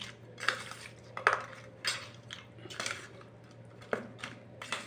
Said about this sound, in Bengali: দেখুন বন্ধুরা, এবার এটা কিন্তু ভালো করে মাখিয়ে নেব।